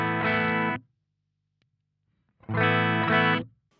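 Two short bursts of distorted electric guitar through a J. Rockett The Dude overdrive pedal, separated by a silent gap, each chord rich and saturated, moderately loud with no voices.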